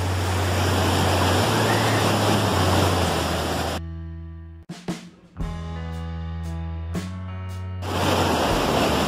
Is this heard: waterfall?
yes